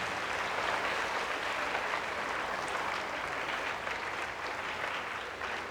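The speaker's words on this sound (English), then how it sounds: "can I give them a round of applause?" Dense, steady applause from an audience after a talk, a wash of many hands clapping at even loudness throughout with no speech over it.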